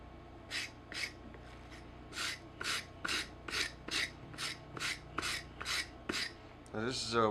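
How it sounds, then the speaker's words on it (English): Wire brush for cleaning welds scrubbing old glue off the rubber of a work boot, about a dozen steady, rhythmic rasping strokes close by and fairly quiet, with no talk. "Now this is a wire brush usually used for cleaning welds, for welding."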